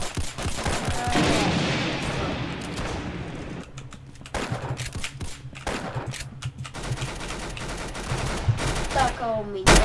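Rapid bursts of automatic machine-gun fire in the online shooter Roblox Arsenal, loud and dense at first, then continuing in choppy volleys mixed with other game gunshots and effects throughout.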